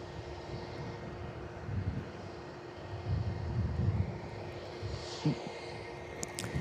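An aircraft engine drones at Perth Airport, a low steady rumble mixed with wind noise, rising and falling slightly and heard from some distance.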